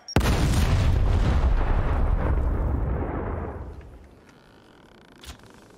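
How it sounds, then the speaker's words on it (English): A frag grenade detonating in the video game Gears Tactics, a sudden loud blast followed by a long rumbling roar that slowly fades over several seconds, with a faint crack near the end. "Throwing frag!"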